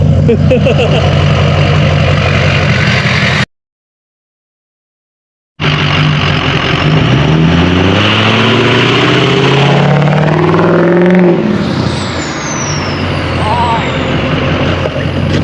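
A Ford 6.0 Powerstroke diesel truck engine rolling coal revs hard and roars steadily, loud and rumbling, broken by a short gap of silence, with a faint voice under the noise.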